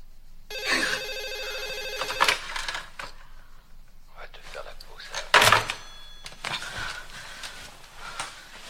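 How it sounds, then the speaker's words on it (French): A telephone rings in a harsh electronic burst of repeated tones near the start, followed by thuds, handling noise and a sharp click in a quiet room, with brief speech. "Téléphone si tôt."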